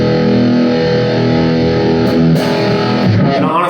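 A Strandberg Boden Essential electric guitar played through heavy distortion, a loud, thick, sustained chord ringing with a dense buzzing tone, then shifting notes and a short riff toward the end, with no talking.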